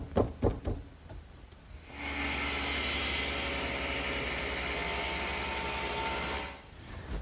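A table saw cuts a taper along a pencil post bed post, with the workpiece riding in a taper jig. After a few light knocks, a loud, steady whine holds for about four seconds, then winds down.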